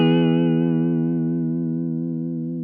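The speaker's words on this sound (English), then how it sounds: "You can just kind of hear it smoothly modulating there in that sine wave mode." A Walrus Audio Julia analog chorus/vibrato pedal set to full vibrato with the depth nearly maxed in sine wave mode, a sustained guitar chord wavering smoothly in pitch as it slowly decays, with no voices.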